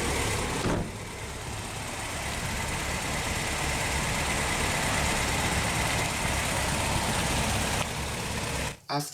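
A 1990 Toyota 4x4 pickup engine idles with a steady, rough mechanical drone throughout, ending with a sudden cut and a few thumps.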